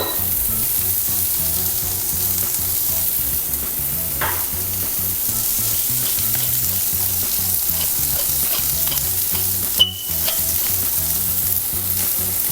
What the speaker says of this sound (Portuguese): No caso dos vegetais, aí sim a gente pode ir mexendo para eles irem salteando